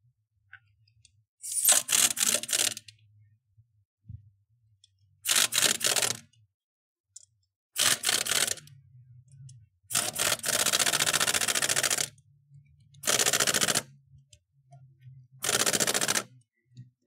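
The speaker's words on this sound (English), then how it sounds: "This is a 90 foot-pound torque stick." An impact wrench fitted with a 90 foot-pound torque stick hammers wheel lug nuts during a tire rotation, six loud rattling bursts of one to two seconds each separated by quiet pauses, close by.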